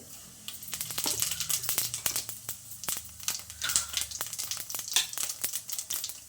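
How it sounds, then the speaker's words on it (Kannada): Mustard seeds and cumin crackle and spit in hot oil, with dense rapid popping and sizzling heard up close, steady through the whole stretch with no talking. "ಆಯಿಲ್ ಕಾದಿದ್ದು ಸಾಸಿವೆ ಸೇರಿಸ್ಕೊತ ಇದ್ದೀನಿ ಸ್ವಲ್ಪ ಜೀರಿಗೆ"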